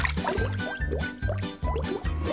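A cartoon object dropped into water, giving repeated bubbly, gurgling splashes and blubs in a steady rhythm, loud and close, over a bright musical tone with no talking.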